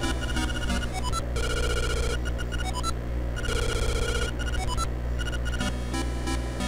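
A telephone rings in the video game The Legend of Zelda: Link's Awakening, a chiptune-style trill repeating in bursts over steady electronic background music, with no talking.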